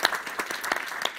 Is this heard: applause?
yes